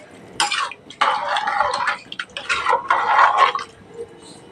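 Close, wet scraping and clinking of mutton soup being stirred in a cooking pot, in several uneven bursts with brief pauses between.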